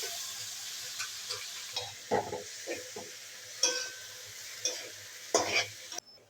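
Boiled peas being stirred into a pan with ginger paste and chili paste, a gentle sizzle under a string of short spatula scrapes and stirring bursts, close and moderately quiet, with no talking.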